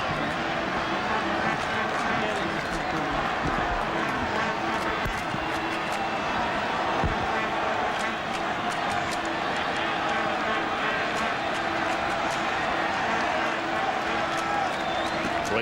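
A constant, loud roar from a baseball stadium crowd fills a Red Sox at Athletics game, with commentators talking over the noise.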